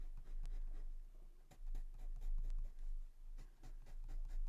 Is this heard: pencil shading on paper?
yes